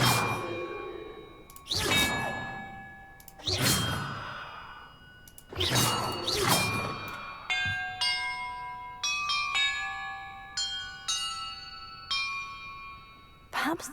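Heavy breathy sighs come first, then a run of clear bell strikes rings out in a Hogwarts Legacy puzzle, each tone sustaining with ringing overtones over steady background.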